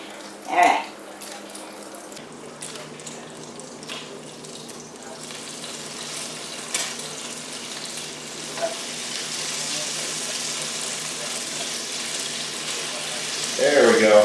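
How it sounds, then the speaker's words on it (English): Bacon and onions fry in a pan with a steady, close sizzle and crackle that swells louder toward the end, broken by a few brief clanks of a utensil. "my bacon is almost ready to flip for the last part"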